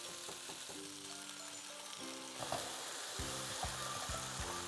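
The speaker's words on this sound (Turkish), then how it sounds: "Şöyle biraz çeviriyorum ve salçalı suyumu ekliyorum." Garlic sizzles steadily in a pan, then tomato paste mixed with water is poured in and stirred, giving a busier hiss with a few scraping clatters of a utensil, close and continuous.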